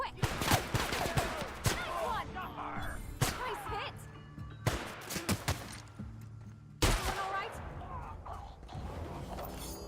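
Shotgun blasts in The Outer Worlds, several loud, sharp booms spaced a second or two apart over background game sounds and some voices talking.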